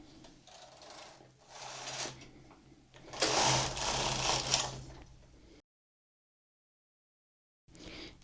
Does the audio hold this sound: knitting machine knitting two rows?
yes